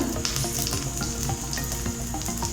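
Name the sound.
oil sizzling on a balloon vine leaf dosa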